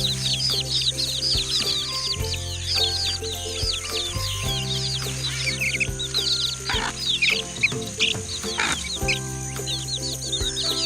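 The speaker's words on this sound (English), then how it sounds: "Chicks." Farm chicks chirping in dense, rapid high peeps, many birds overlapping continuously, with low barn hum and occasional clucks underneath.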